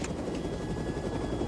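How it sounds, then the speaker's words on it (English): A helicopter in flight produces a loud, continuous rotor and engine drone with a steady thumping texture, close and filling the scene. "I want you to land this helicopter."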